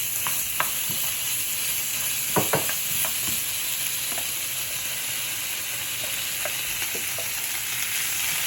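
Shrimp and salmon fry in a hot pan as udon pasta is being made: a loud, even sizzle and hiss carries throughout, with a few sharp clicks and taps from stirring.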